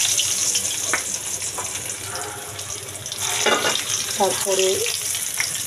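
Dried garlic sizzling in hot oil for chilli chicken, a steady frying hiss with stirring clatter and utensil knocks, while a voice briefly speaks over the cooking.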